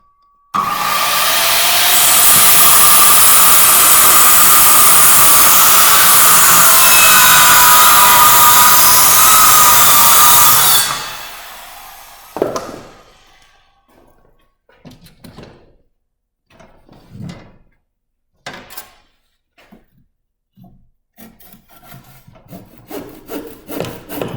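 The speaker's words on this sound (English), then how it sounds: "it's always good to cut right to that line and finish it up with a handsaw" A handsaw rasps steadily through a wooden hip rafter tail, loud and close for about ten seconds, then stops, leaving scattered light knocks and handling clatter.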